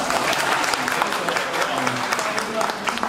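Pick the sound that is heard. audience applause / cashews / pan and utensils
audience applause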